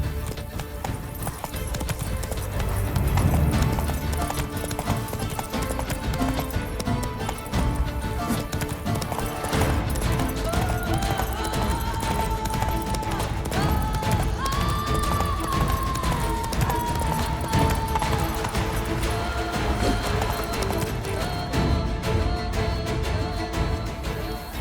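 Rhythmic clip-clop of a horse's hooves galloping under a rider in The Witcher 3, continuous and loud over game music and ambience, with occasional clattering accents.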